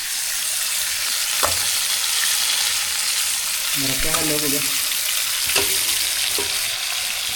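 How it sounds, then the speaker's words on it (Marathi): Freshly caught monsoon fish fry directly in a cooking pot outdoors, giving a steady, fairly loud hiss of hot oil with a few sharp pops and clatters, while someone speaks briefly. "तवा नाही आहे त्यामुळं डायरेक्ट भांड्यात फ्राय"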